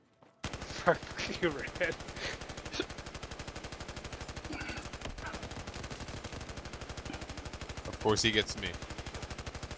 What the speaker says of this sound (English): Stop shooting me! Machine gun!